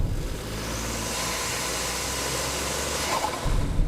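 A Ford Bronco Sport's turbocharged 1.5-liter three-cylinder EcoBoost engine runs with a steady, loud, gravelly drone and broad rushing noise, rising into a deeper thrum near the end.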